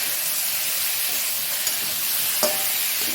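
Ginger paste sautés in hot oil in a pan for a bitter gourd and puti fish curry, giving a loud continuous hissing sizzle with a couple of brief utensil knocks and no talking.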